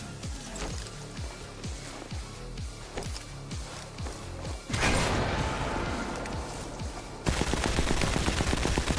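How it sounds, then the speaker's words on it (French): Gunfire in the Sniper Elite 4 video game: a steady, rapid string of heavy machine-gun shots, then dense, louder bursts that cut in abruptly and sound close and harsh, with no talk over them. "Oh merde, la mitrailleuse"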